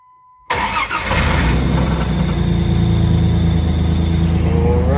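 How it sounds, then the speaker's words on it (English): A 1999 Dodge Ram 1500 with a 3.9 liter engine cranks and fires after a brief silence, settling straight into a loud, steady idle that holds for several seconds, close up. "So whenever you're ready, go ahead and start it, honey."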